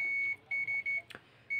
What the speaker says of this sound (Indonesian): Nah, ini untuk mode buzzer.